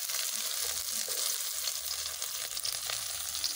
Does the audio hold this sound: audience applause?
no